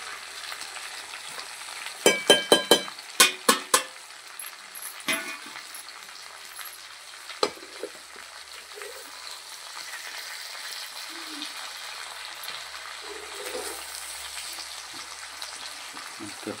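Okra and peanuts frying in oil in a pan, a soft continuous sizzle with a burst of sharp clattering stirring knocks early on and a few more later, close and fairly quiet, no talk.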